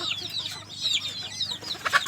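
Chickens and chicks in a coop cluck and cheep continuously, close by, with a steady low hum under the busy chatter of birds and no talking.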